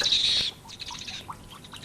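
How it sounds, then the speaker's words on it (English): An owl's harsh shriek, a loud, sustained screech lasting about half a second, followed by faint scattered squawks and chirps in a quiet night setting. "was the owl that shrieked."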